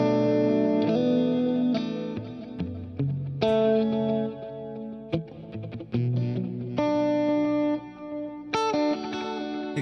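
Electric guitar with chorus effect, playing a series of sustained, shimmering chords and single notes with some distortion, clear and upfront with no voices.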